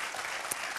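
Brief, soft burst of studio audience applause on a French TV quiz show, an even patter of hands heard at moderate distance for under a second.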